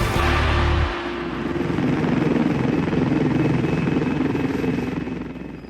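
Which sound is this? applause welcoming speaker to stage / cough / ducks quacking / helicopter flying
helicopter flying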